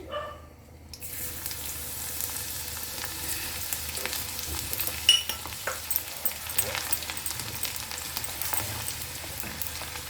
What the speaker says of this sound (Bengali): তেলটা গরম হয়ে গেছে, এর মধ্যে দুটো শুকনো লঙ্কা দিচ্ছি আর এই রসুন কুচিটা দিচ্ছি।